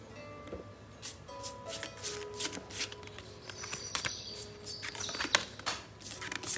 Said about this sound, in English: All right, I dropped a card